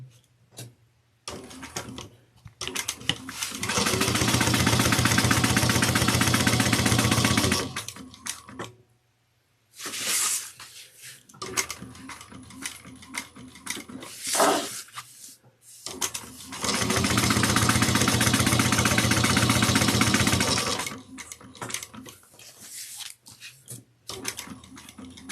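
A sewing machine topstitches around a bag pocket in two long, loud, steady runs of rapid mechanical whirring, separated by quieter handling noises and short bursts of stitching.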